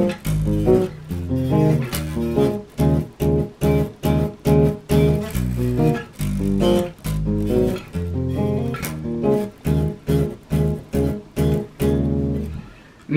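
The bass line of a song played on a 5-string bass with no effect, in punchy chord stabs with short gaps between them, loud and close with no voices.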